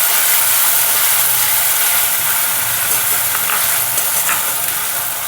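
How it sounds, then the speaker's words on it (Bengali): Onion paste stirs into caramelized sugar in a hot pan, giving a loud, dense, continuous sizzle with scraping from the spoon throughout, no voices. "এবার আমি দিয়ে দেবো পেঁয়াজ বাটা। একটু নাড়াচাড়া করে নেব।"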